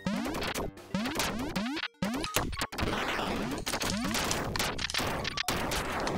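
Rapid bursts of gunfire from the Duck Game video game, with volleys of sharp shots, crashes and thwacks coming in dense, chaotic succession over several seconds.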